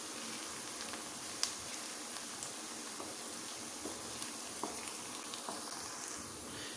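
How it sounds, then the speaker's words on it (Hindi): Ginger garlic paste fries in a pan as part of a white lobiya dish, giving a steady, close sizzle with occasional small pops and clicks and no talking. "इसमें अदरक और लहसुन का पेस्ट शामिल करते हैं। इसको भी फ्राई कर लेते हैं।"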